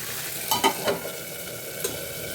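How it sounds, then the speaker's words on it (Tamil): Onions and tomatoes cook in a pan for a mushroom gravy, giving a steady low sizzle with a few scraping stirs of a utensil near the start and one more near the end. "இப்போ வந்து வெங்காயம் தக்காளி நல்லா வதங்கிடுச்சு"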